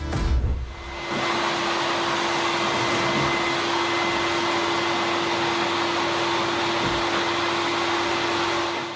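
Vacuum cleaner starting up and running continuously, a loud steady whirring roar with a constant tonal hum, close and alone for the whole stretch.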